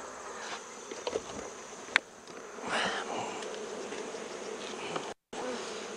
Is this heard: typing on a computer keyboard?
no